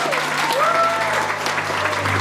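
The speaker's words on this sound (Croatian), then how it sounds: "da jednim velikim aplauzom damo podršku našim mladencima" Wedding guests clapping together to cheer the newlyweds before their first dance, a dense, steady round of applause close by, with a faint voice or whistle-like tone riding over it.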